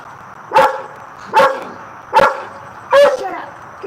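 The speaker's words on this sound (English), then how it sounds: "There's no sense in her barking." A dog barks four times at an even, steady pace, loud and close, each bark a sharp burst with a short tail, separated by brief pauses.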